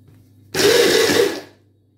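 Toasted sesame seeds grinding in an electric grinder: one steady, loud whirring burst of about a second that starts abruptly, then fades out, with nothing else around it.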